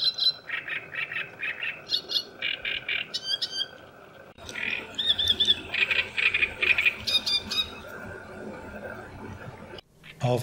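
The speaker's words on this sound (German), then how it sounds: "In einem Schilfstreifen gaben einige Drosselrohrsänger ihr Bestes." Several great reed warblers sing from a reed strip at Lake Neusiedl, grating, croaking phrases repeating in rhythmic bursts, fairly close and loud, with other bird calls and faint background sounds mixed in.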